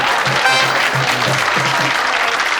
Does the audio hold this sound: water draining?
no